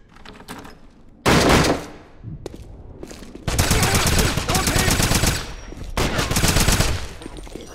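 Gunfire erupts in the video game Wolfenstein: loud bursts of rapid automatic shots in several long volleys, with quieter scattered shots between them and a short pause near the end.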